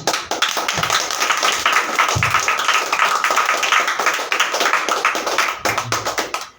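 A church worship congregation bursts into sustained, loud hand clapping in praise to God, a thick and even stream of crisp claps with brief low thumps underneath.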